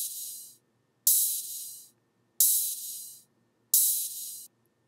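A layered ride cymbal filtered down to only its very high frequencies, played alone in an electronic future-style production, gives four airy, hissy washes, each starting sharply and fading over about half a second.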